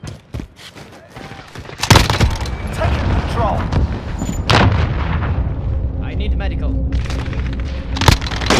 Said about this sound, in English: Allied cluster strike inbound